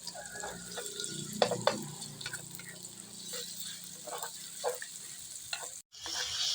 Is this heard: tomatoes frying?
yes